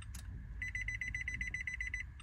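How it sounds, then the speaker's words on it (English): A rapid series of high electronic beeps, about fifteen short pulses in steady rhythm, faint over a low background rumble, while programming a new Nissan or Infiniti proximity key. "It's gonna make that audible beep noise."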